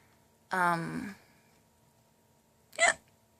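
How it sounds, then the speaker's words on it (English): A person hiccups twice, a longer voiced hiccup followed about two seconds later by a short sharp one, close and fairly quiet in a silent room. "Sorry, I got the hiccups."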